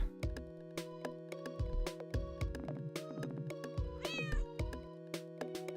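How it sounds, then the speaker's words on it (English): A cat meows repeatedly in a video game, a string of short tonal mews over a quiet looping musical backdrop, clear and moderately loud. "I gotta check on the kitty."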